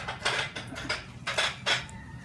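Knife scraping along a whole chicken's rib cage during deboning, a series of short rasping strokes in an uneven rhythm, close and fairly quiet.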